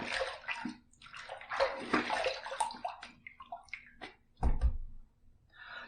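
A Pearl Flexi adjustable razor is rinsed under running water from a tap, with splashing, gurgling flow and a few knocks of the razor against the sink, close and clear.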